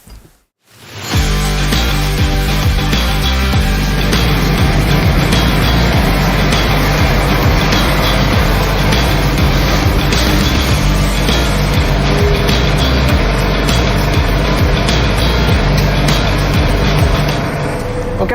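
A Valtra tractor drives out to the field, heard from inside as a loud, steady engine and road drone that builds up quickly at the start and then holds constant.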